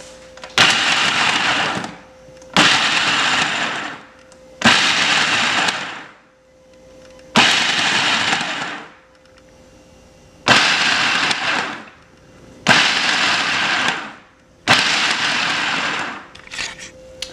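A blender pulsing plant-based ingredients into chunky pieces: seven loud, close bursts of whirring motor, each lasting a second or two and separated by short silent gaps.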